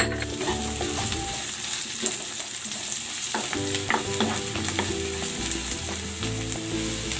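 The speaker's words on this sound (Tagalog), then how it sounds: "Igigisa ko na tong bawang." Garlic and onion sautéing in a pan for chicken adobo, a steady close sizzle with repeated stirring scrapes throughout and no talking.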